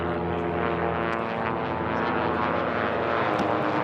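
A biplane racing at the STIHL National Championship Air Races roars past with a steady, loud propeller engine drone and strong harmonic hum, holding near and constant throughout.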